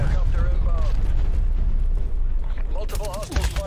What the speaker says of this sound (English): I got shot from everywhere.